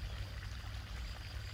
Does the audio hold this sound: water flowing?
yes